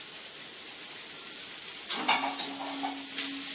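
An onion goes into a pan for a sambar, giving a soft sizzle that swells after a quiet hiss, with light scraping and clinks of stirring near the end.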